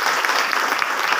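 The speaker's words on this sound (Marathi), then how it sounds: "आपण सर्वांनी एका जोरदार टाळ्या वाजवल्या" Audience at a lecture program bursting into applause, a dense, loud, continuous clapping from many hands throughout.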